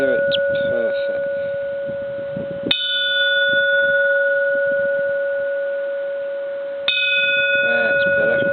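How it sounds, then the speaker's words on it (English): A Japanese temple bell is struck twice, each strike a sharp hit that blooms into a loud, long, pure ringing hum decaying slowly, with a person talking briefly before and after the strikes. "So it takes a bit with this bell. I've only struck it a few times."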